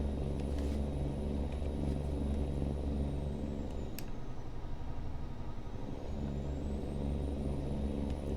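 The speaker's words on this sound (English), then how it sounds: "This truck just sounds good." A deep, steady truck engine rumble in the video game American Truck Simulator idles throughout, low and droning, with a brief sharp hiss and a slight change in tone midway.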